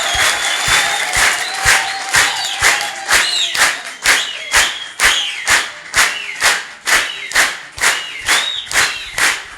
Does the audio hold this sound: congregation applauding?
yes